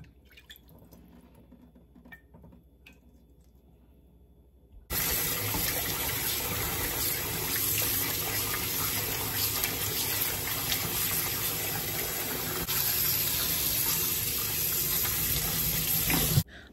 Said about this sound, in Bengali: তারপর ভালো করে ধুয়ে নেব।